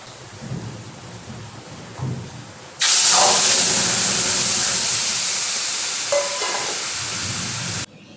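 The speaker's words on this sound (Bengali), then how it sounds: "কড়াইতে তেল দিলাম, দিয়ে একটু পাঁচফোড়ন, লঙ্কা, তেজপাতা দিয়ে দিলাম" Spices (panch phoron, dried chilli and bay leaf) hit hot oil in a kadai, setting off a sudden loud, steady sizzling hiss that lasts several seconds and then cuts off abruptly, after a quiet start.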